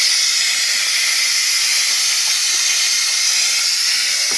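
Steady, loud hissing steam escapes from an Instant Pot pressure cooker during release, a continuous high airy jet with no break.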